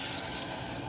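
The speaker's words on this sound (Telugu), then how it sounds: "వాటర్ పోసుకోవాలి" Water from a glass pours into a pot of mango mutton curry as a steady, close, even rush of liquid lasting about a second, with no talk.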